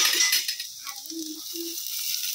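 Chillies frying in a kadai give a soft sizzle and light stirring clinks, a brief hiss at first settling into quiet cooking noises with a couple of faint tonal clicks.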